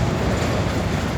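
A Dash 8 diesel locomotive rolls past at night, loud and close, with dense rumbling wheel noise and rail clatter filling the whole moment.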